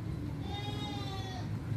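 A goat bleats once, a drawn-out wavering cry near the middle, heard close over a steady low background hum of a livestock pen where nursing kids are kept.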